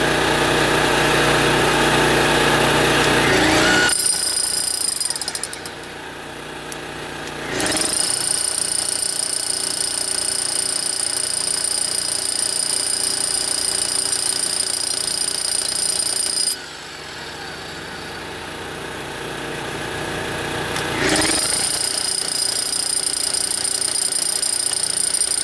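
Power drill boring through a structure while running wire, a loud steady high-pitched whine in long bursts broken by two short pauses, with the motor dropping and revving back up each time.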